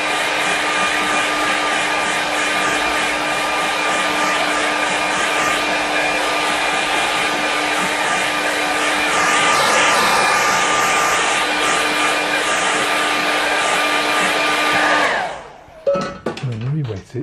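Hair dryer blowing steadily on a wet watercolour winter scene, a loud continuous close whoosh for about fifteen seconds that cuts off, followed by faint handling sounds.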